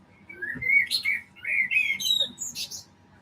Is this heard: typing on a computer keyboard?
no